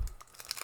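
Foil wrapper of a Bloomburrow play booster pack torn open, a quick crinkling rip of a few brief bursts, close and quiet.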